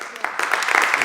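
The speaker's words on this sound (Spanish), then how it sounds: "le damos un fuerte aplauso" Brief burst of audience applause at a productivity panel, clapping that builds quickly from sparse claps into a fuller patter within about a second, with voices faintly mixed in.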